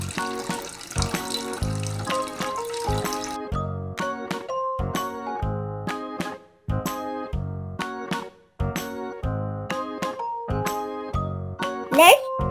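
Water runs from a toy kitchen tap over plastic toy food being washed, mixed with light tinkling clatter and a rhythmic electronic tune; a voice is faintly present.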